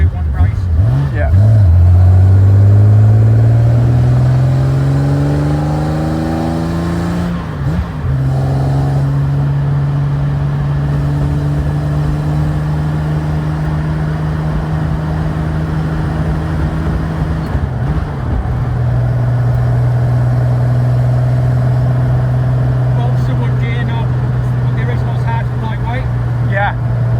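Porsche 917 Le Mans race car, road legal, with a loud engine revving up through the gears and then holding a steady, droning cruise, close and dominant for the whole stretch, with people talking faintly beneath it.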